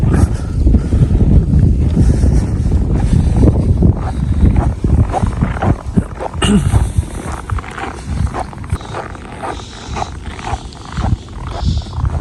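Strong, gusty cold wind blows outdoors during a snowy Russian winter, a loud rough roar that surges and buffets the microphone throughout, easing slightly toward the end.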